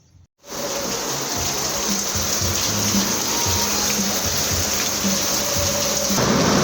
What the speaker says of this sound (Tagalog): Umuulan na mga wow.